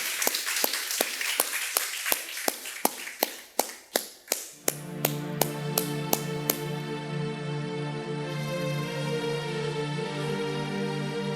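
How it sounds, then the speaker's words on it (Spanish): A church congregation claps in sharp, rhythmic unison, loud and close, then the clapping thins out as sustained organ or keyboard chords rise and ring on beneath it. "Dele un aplauso al Señor."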